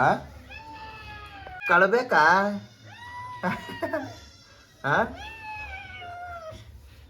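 A person imitates a kitten, making several drawn-out, high meows with short bursts of talk between them.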